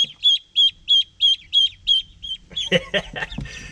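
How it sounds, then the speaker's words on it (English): Khaki Campbell ducklings peep in a quick, regular series of high, clear chirps nearby, then more overlapping, scattered peeps and soft noise follow. "These are khaki Campbell ducklings."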